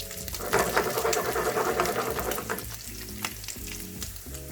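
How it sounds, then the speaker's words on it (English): Pork sisig pan-frying in a home kitchen, a loud steady sizzle with bursts of spatula stirring and scraping against the pan throughout, and no voices. "Now it's up to you how long you want to pan fry this."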